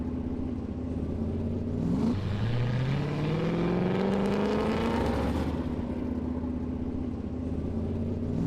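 Loud race car engine on a test run with its wing off after a stagger adjustment, a steady rumbling idle that revs up sharply and rises in pitch for a few seconds, then drops back to a droning idle.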